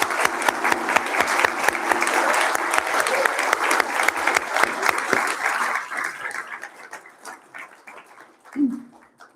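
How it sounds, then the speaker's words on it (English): Film festival audience applauding the filmmakers, dense sustained clapping that fades gradually toward the end, followed by a short voice. "So I think a round of applause for all of the amazing filmmakers."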